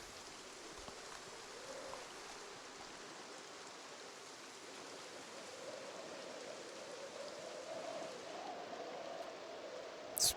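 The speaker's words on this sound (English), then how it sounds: "The rain sound is too good." Steady rain in Project Zomboid falls as a soft, even hiss of drops on surfaces, continuous and fairly faint throughout with no voices.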